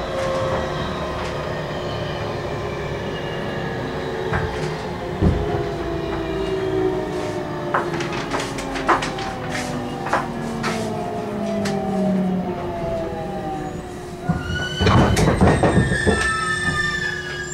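A JR 813 series 100-subseries rapid train on the Kagoshima Main Line slows into Ōnojō Station, heard from inside the car: a steady rolling rumble with shrill wheel squeals, scattered clicks over the rail joints and a louder burst of clatter near the end.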